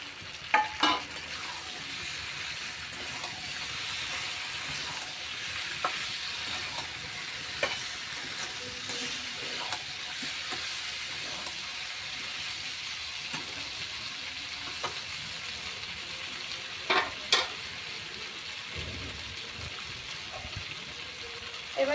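Chopped green chillies sizzle with potatoes in a pan for alu dum, a steady close frying hiss broken by scattered spoon clinks and scrapes and a few louder knocks.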